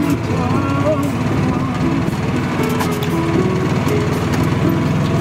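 A gas EZ Go Express S4 golf cart engine drones steadily and close, a low, even motor hum with a slight rise in pitch, while someone talks over it throughout.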